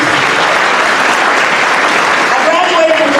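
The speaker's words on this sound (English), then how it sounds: "Give her a round of applause, please." Loud, steady audience applause at a community gathering, a thick crowd of clapping hands close by, with voices faintly audible underneath.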